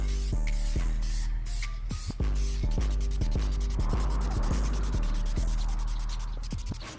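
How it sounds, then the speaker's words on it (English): Short hissing bursts of an aerosol spray paint on the edge of a leather truck seat, repeated in quick pulses over a steady electrical hum, close to the microphone. "I'm gonna go ahead and spray the edge with this."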